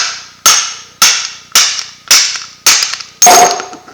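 A hammer punches a BSA cartridge bottom bracket axle out by hand, six sharp metallic strikes at a steady half-second rhythm, each ringing briefly before decaying, loud and close with no talk.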